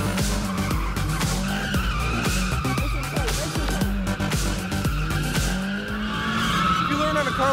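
A drift car at a drift school track sends out continuous squealing tire skids and revving engine noise. Pitches slide up and down as the car slides, and the sound stays loud and sustained throughout.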